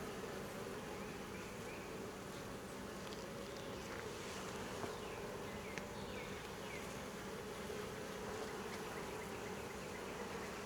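A dense, continuous buzzing of many honeybees around an open hive during an inspection fills the air, steady and fairly close, with no voices.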